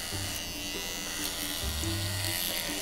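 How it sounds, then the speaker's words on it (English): Small electric clippers outlining a horse's mane: a continuous close buzzing drone with slight shifts in pitch as the blades move through the hair, steady throughout without talking. "I'm just gonna do the outline of his mane so that we don't, when we go with the bigger clippers, we don't shave off his whole mane."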